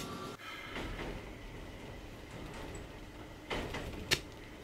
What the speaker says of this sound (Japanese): それでは列車発車いたします。